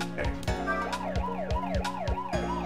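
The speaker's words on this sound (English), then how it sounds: "I'm gonna try turning the siren on." A siren wails in the Ghost Trick video game, a rapid repeating up-and-down electronic whoop cycling steadily and loudly with nothing else over it.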